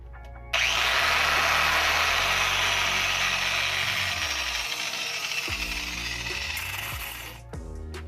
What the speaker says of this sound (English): so grind off the top here